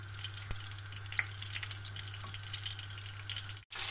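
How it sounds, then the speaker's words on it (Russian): Squid pieces in batter fry in hot oil with a faint, steady sizzle and crackle under a low constant hum, marked by a few small pops. No one speaks. "Они будут жариться очень-очень быстро."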